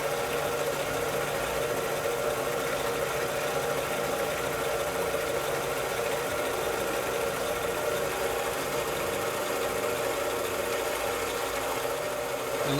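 A metal lathe takes a light facing cut across a flat end, producing a steady, even mechanical whir and hum that runs unbroken throughout, with no talk.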